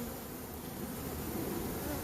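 A swarm of bees around a trap hums in a dense, steady buzz, faint and continuous, with no voices over it.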